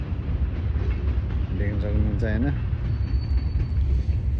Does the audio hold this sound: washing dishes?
no